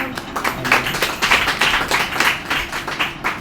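A church congregation claps together for God's word, a dense, steady patter of many hands over a few seconds, moderately loud and close.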